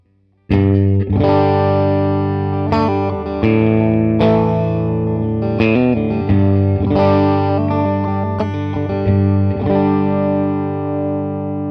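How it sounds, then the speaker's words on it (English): A Fender Elite Stratocaster with the S1 switch engaged and all three pickups on plays chords and single notes through effects, a full, wide electric guitar tone, loud and close, continuous after a brief silent start. "You're actually getting all 3 pickups on at the same time, and it's this huge wide range tone"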